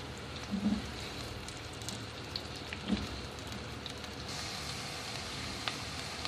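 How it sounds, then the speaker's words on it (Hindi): Chopped onions frying in a pan for Dhaba-style chana and mash dal, giving a steady, moderate crackling hiss that runs evenly throughout with a few faint clinks. "और इसको लाइट गोल्डन फ्राई करेंगे।"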